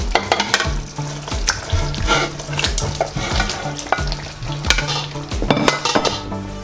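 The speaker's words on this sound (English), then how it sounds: "I'm just going to add the fish now" Fish going into a bubbling sauce for a Ugandan fish stew, with busy sizzling and frying, repeated clinks and scrapes of a spoon against the pot, and steady close stirring throughout.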